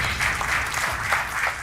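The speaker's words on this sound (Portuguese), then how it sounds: "Um aplauso para os dois" Studio audience applause at a television quiz show, a dense and steady wash of clapping from many hands, loud and close, with no talk over it.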